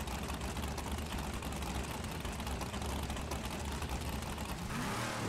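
A loud procharged supercharged car engine in the FiveM video game revs steadily at a street race, giving a dense, continuous whirring roar with no talk over it.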